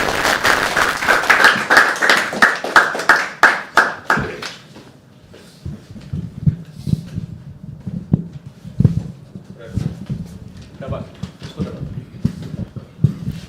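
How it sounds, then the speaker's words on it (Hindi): Rhythmic clapping from a crowd at an open mic poetry event in Mumbai rings out for about four seconds, then fades to a few scattered claps amid low room noise. "तालियां बजती रहे, तालियां बजती रहे"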